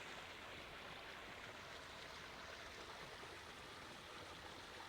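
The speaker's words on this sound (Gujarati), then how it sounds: "પાણી ચાલુ જ છે." Water runs continuously across a farm field, a faint, steady rushing like a small stream, even and unbroken with no speech.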